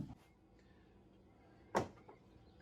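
Door panel of a Honda Pioneer 1000 UTV being fitted back in place after a bushing replacement for a rattle: a quiet room, then one sharp knock or clunk of the panel, a faint rattle, and another bump at the end.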